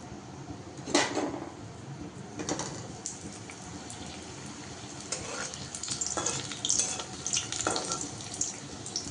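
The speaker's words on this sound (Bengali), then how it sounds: "এবার আমি একটা একটা করে পাঁপড়গুলো ভেজে তুলে নেব।" Papads frying one by one in hot white oil, with a constant sizzle broken by several sharp bursts of crackling as each piece goes in, all close and fairly loud.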